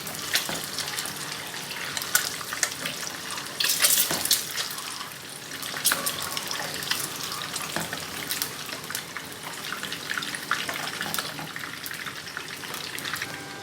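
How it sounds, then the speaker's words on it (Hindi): Eggs frying in a pan for an egg and potato curry, a steady close crackling sizzle with scattered pops running throughout, no talking over it. "तो यहाँ मैंने अंडे डाल दिए फ्राई होने के लिए।"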